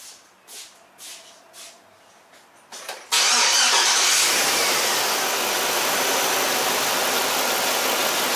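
A car engine, tested for a misfiring cylinder with individual coils unplugged, cranks and catches at about three seconds after a few quiet knocks, then settles into a loud, steady idle that continues to the end.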